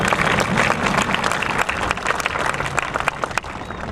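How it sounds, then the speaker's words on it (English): A crowd at a speech event gives a round of applause, thick continuous clapping from many hands with a few sharper individual claps standing out, loud and sustained throughout. "Let's give him a round of applause."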